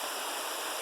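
Rushing water from waterfalls along a mountain stream in Waimano, Oahu, a steady broadband roar filling the whole clip with no other sounds.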